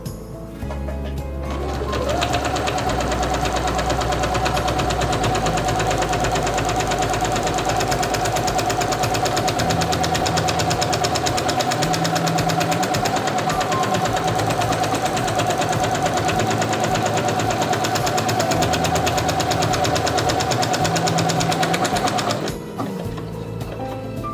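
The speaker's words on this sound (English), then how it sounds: "Lower the presser foot and begin sewing." A Singer Quantum Stylist 9960 sewing machine sews a buttonhole in one continuous run of about twenty seconds, a loud, steady mechanical whir and rapid needle knock close up with no talk, stopping abruptly at the end.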